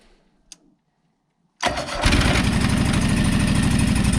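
Small engine on an auction-bought machine, fitted with a new battery, cranks briefly after near silence and fires right off into a loud, steady running roar that continues to the end.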